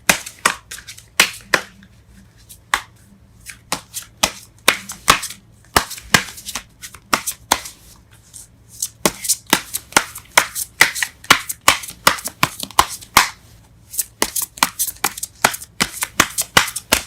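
Tarot cards are shuffled and pulled, producing a dense run of sharp crisp card slaps and riffles, close and fairly loud, alone without talk.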